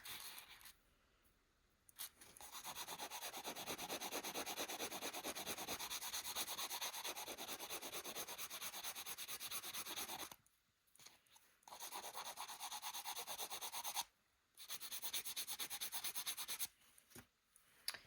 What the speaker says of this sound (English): I like using this sanding block because it just takes out all those tool marks that you put in.